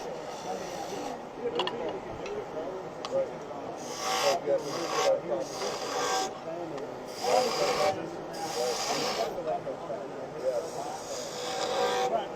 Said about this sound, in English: And just to clean it up a little bit, we're going to use a skew.